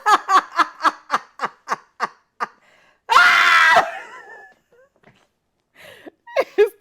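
A single loud, sustained scream bursts out for about a second, preceded by a rapid series of short giggling or snickering bursts and followed by faint scattered vocal sounds.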